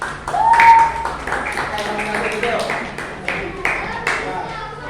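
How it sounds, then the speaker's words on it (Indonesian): Classmates clap for group 1 in a school lesson, scattered uneven hand claps from a small group, fairly close, with voices talking over and between them. "tepuk tangan untuk kelompok 1"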